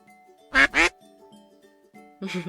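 Ducks in the indie otome game Pre-Odyssey let out two loud, close quacks in quick succession, followed by a third fainter quack after a brief pause, over soft background music.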